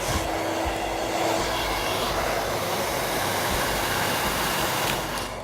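A hair dryer blows a loud, steady, close rushing whoosh while styling hair with a round brush for a salon-style blowout, continuous throughout with a faint tonal hum early on and no talk.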